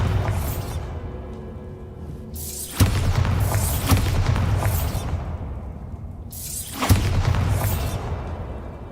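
A Bombarda blasting spell in Hogwarts Legacy goes off twice, each time as a sharp booming impact followed by a roaring, crackling rumble that slowly fades.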